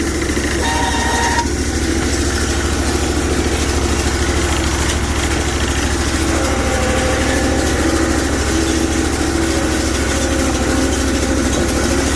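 A 6HP diesel engine on a Sears Suburban loader idles just after starting with a steady, close and loud chugging, its even low rhythm running throughout.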